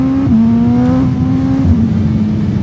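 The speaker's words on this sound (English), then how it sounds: "I like the sound when it's skipping and just revving up even more." A loud Suzuki GSX-R1000 sport motorcycle engine revs and holds a high, buzzing pitch, dipping slightly as it skips, close by with no talking.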